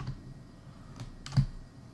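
Keys struck on a computer keyboard during ZBrush hard-surface modeling: a few quiet, separate clicks, the clearest one near the middle, faint and close with no talk.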